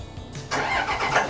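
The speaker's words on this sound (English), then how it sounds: "I'll start the engine with the hatch open" Engine of a Beneteau Swift Trawler 34 boat cranks and catches with the hatch open, a brief starter whir turning into a loud, broad rumbling idle close by.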